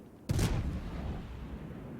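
Naval artillery fire in a warship video game: a single deep, booming shell launch opens sharply, then a low rumble trails off. The sound is distant and fairly soft, with no talking.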